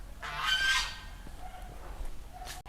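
Poultry in a coop holding turkeys, guineafowl and chickens: a loud honking call near the start, then quieter scattered calls and faint clucks over a steady low background.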